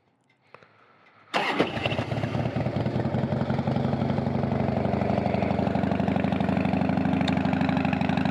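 A Harley-Davidson Softail Springer motorcycle engine cranks and fires up on a cold day after about a second of near silence, then settles into a loud, steady, throbbing idle that continues to the end.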